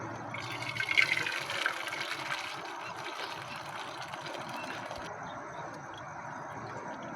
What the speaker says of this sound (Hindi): यहाँ पे हम छन्नी की मदद से इसको छान लेते हैं।